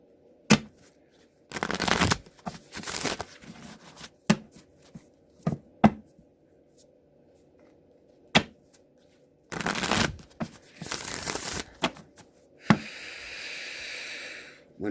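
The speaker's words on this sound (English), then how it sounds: "I'm going to do 2 more shuffles." A deck of tarot cards is shuffled by hand in several separate bursts of crisp riffling and slapping, loud and close against a quiet room with a low steady hum.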